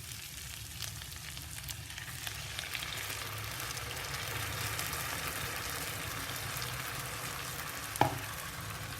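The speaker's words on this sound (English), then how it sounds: "at this stage we add the crushed tomatoes, the tomato puree." Crushed tomatoes and tomato puree frying with ginger garlic paste in a hot pan, giving a steady, fairly quiet sizzle with faint stirring and a single sharp clink near the end, no voices.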